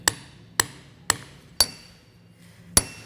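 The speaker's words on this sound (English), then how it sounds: "use our hammer, tap it in." A hammer taps a full-float axle seal into place in an axle housing, giving five sharp metallic knocks at roughly half-second intervals with a short pause before the last, clear and close with no talk.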